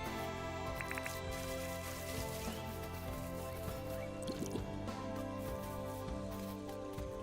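Watering in the farming video game Dinkum comes through as soft, repeated liquid drips and trickles over layered game music and ambient tones, moderate in level with no talking.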